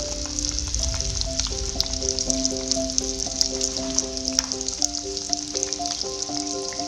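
Masala for egg curry with chilli powder roasting in a pan, giving a steady loud sizzling hiss with small crackles and pops throughout, and soft background music underneath.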